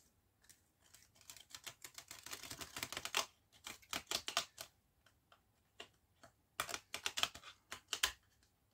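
Tarot cards shuffled by hand in bursts of quick papery flutters and slaps, close and fairly quiet, pausing briefly between runs with no talk.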